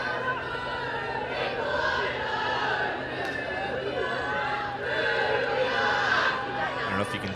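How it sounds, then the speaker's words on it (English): A crowd of Australian fans at an ultimate frisbee championship match grows loud, steady cheering and chatter rolling on with a commentator's voice over it. "the crowd's getting quite loud now. A lot of Australian fans out there."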